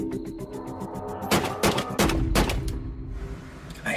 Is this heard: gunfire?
yes